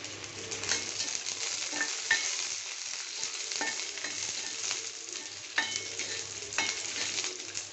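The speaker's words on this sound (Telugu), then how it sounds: "వెజిటేబుల్స్ బాగా 5 నిమిషాలు వేగనిద్దాం" Vegetables for veg pulao fry in a pan, a steady moderate sizzle with intermittent clicks and scrapes of a stirring spoon, fairly close and without talk.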